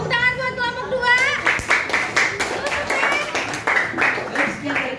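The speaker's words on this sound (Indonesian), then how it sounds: "Tepuk tangan buat kelompok 2." Students in a classroom clap for a student group, scattered hand claps over children's voices and chatter, with a teacher speaking at the start.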